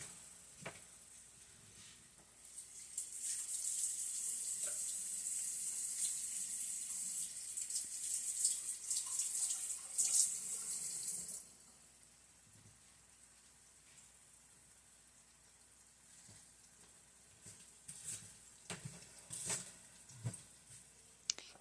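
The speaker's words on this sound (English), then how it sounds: "I just gotta go wash my hands" Tap water runs into a sink for hand washing in a home kitchen, a steady hiss for about nine seconds that then stops, followed by faint clatter and small knocks.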